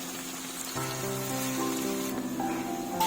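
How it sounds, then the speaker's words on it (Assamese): Steady hiss and crackle of onions frying in hot oil, a continuous sizzle close by with a faint hum underneath. "এতিয়া তেলত পিঁয়াজখিনি ভাজি আছোঁ"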